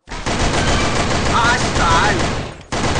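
Loud, sustained rapid-fire gunfire pours out in the online shooter Sudden Attack as ducks are targeted. The burst runs almost without pause, briefly cuts out near the end and then resumes, with a voice faintly mixed underneath.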